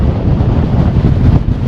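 Strong wind buffets the microphone on the summit of Murton Pike, a steep conical hill of 1,949 feet, as a loud, continuous low roar with no pauses.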